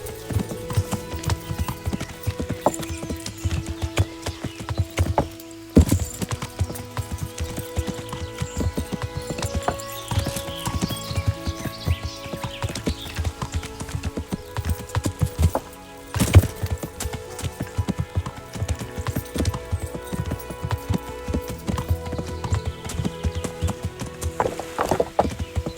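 Rhythmic clip-clop of horse hooves at a steady trot in the video game Kingdom Come: Deliverance, fairly close, with a brief whinny and some game background music and effects.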